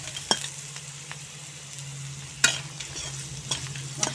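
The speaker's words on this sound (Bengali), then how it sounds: "এখন মশলা ভালো করে কষিয়ে নেব।" Ground turmeric, chilli and cumin frying in a pan for a Bengali vegetarian pumpkin dish, a low steady sizzle with a constant hum beneath and a few sharp spatula scrapes and knocks, no speech.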